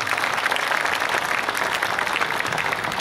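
Steady, dense applause from an audience at a Hindi kavi sammelan poetry gathering, continuous and fairly loud throughout with no talk over it.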